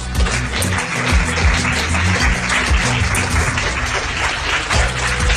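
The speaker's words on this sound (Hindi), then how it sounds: "सनम के लिए जोरदार तालियां।" A studio audience on a Hindi reality show claps for a contestant over a thumping background music track, the clapping blended into the beat and fairly loud throughout.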